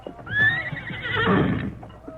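A horse gives one loud, close whinny that rises and then trails off, with faint hoof sounds underneath, in a Western radio drama scene near a canyon bridge.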